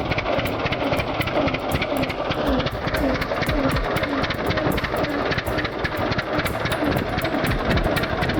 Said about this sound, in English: Oil Pool 25-40 is a heavy-duty vintage tractor powered by a 2-cylinder opposed engine using heavy oil